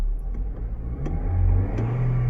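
A 2024 Toyota Corolla Cross engine revs in reverse gear while the car fails to move. The steady mid-pitched drone swells as the throttle opens, holding a close, continuous rumble with no talk.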